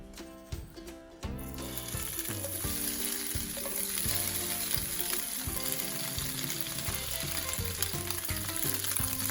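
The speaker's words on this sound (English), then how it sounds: "Now you're going to let the tofu fry. Fry your tofu until it is crispy." Tofu fries in hot oil in a pan over a medium flame: a loud, dense, steady crackling sizzle that starts after a few brief clinks and holds strong to the end.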